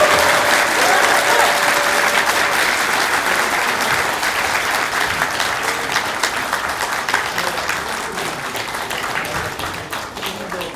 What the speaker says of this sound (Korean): 안철수 의원님을 큰 박수로 환영해 주시기 바랍니다.